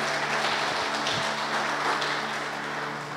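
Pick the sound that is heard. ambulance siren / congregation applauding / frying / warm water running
congregation applauding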